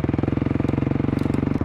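Honda CRF450L dual-sport motorcycle running loud with the Graves muffler insert missing, a steady, rapid, throbbing exhaust pulse close by, continuous through the clip.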